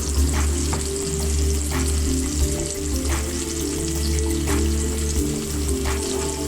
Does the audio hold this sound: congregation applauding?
no